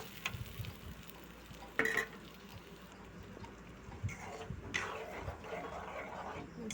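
Onion and a ground spice paste frying in a pan for a fish curry: a quiet, soft sizzle with occasional louder stirring scrapes and bursts, low in level and fairly distant.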